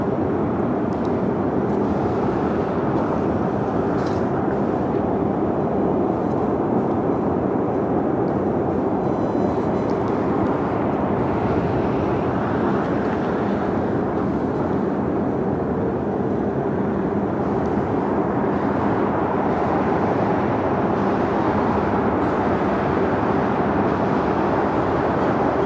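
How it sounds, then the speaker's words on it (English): A Southwest Airlines Boeing 737-700 takes off from runway 25 right at LAX, its jet engines producing a loud, steady roar that holds for the whole stretch with no pauses. "Next takeoff on 25 right is Southwest Airlines Flight 552 heading to the Valley of the Sun at Phoenix, Arizona on a 737-700."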